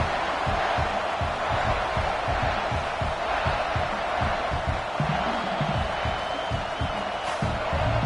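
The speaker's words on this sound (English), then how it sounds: "listen to this crowd noise. This stadium is vibrating." A dense, roaring American football stadium crowd fills the air continuously, loud and steady, with rhythmic thumping stomps or claps pulsing underneath.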